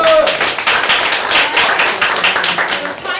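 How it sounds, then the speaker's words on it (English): A round of applause in an office meeting: a small group claps steadily for about three seconds, fairly close, with a little chatter mixed in. "Give her a round of applause."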